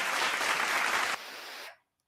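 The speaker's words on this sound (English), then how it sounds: "I'm going to do a little bit of a round of applause real quick" A burst of studio applause on a video game talk show, dense and loud at first, then dropping to a lighter patter before stopping abruptly.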